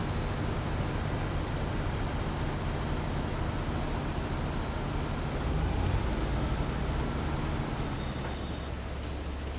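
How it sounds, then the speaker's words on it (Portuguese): Truck driving in the video game SnowRunner, a steady heavy engine rumble with broadband road noise throughout and a brief hiss near the end. "Vou seguir com esse caminhão."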